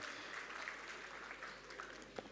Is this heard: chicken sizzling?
no